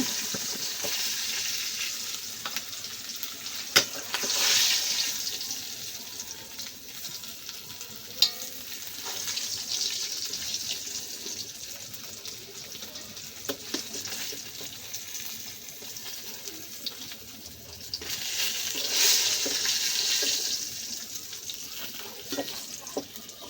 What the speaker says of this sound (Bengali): এই দেখেন বন্ধুরা, আমার মাছ ভাজা হয়ে গেছে